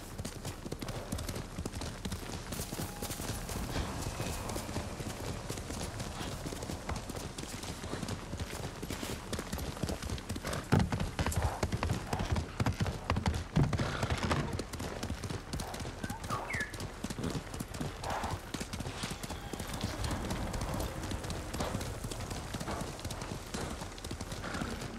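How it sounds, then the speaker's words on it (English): A horse gallops in Ghost of Tsushima, a continuous rapid clip-clop of hooves with a brief whinny, steady and close for the whole stretch. "Horse!"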